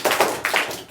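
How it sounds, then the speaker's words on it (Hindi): Kindergarten class clapping for a student named Nandini, a short burst of quick, uneven handclaps close by. "नंदनी के लिए ज़ोरदार ताली बजाओ जी"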